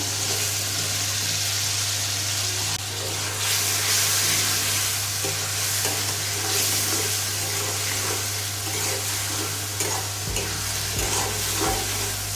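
Fried potatoes tossed into cooked spice paste in a pan, sizzling steadily for a long stretch with repeated stirring scrapes and clatters, close and fairly loud, no talking.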